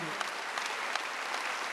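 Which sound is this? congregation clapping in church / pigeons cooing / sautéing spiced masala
congregation clapping in church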